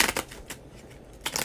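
A Masonic tarot deck being shuffled by hand, giving short papery riffles and flutters in a few quick bursts, close up with no talking.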